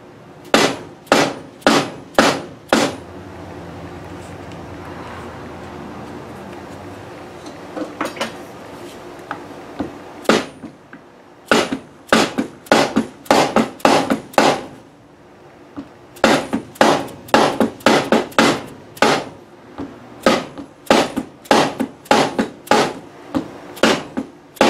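Sharp metallic taps of frets being hammered into a fanned-fret, compound-radius guitar fingerboard, bursts of quick close strikes separated by short pauses, loud and without speech.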